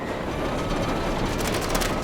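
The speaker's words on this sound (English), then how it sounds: "A mine train roller coaster rattling down the tracks at 45 kilometers per hour." The Big Thunder Mountain Railroad mine train roller coaster rattles along its tracks at about 45 kilometers per hour, a dense, steady rumble with metallic clatter building in the last second.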